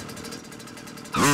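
A motorcycle engine in Call of Duty: Modern Warfare drones steadily for about a second with a pulsing buzz, then swells sharply louder at the end as the bike revs or passes close.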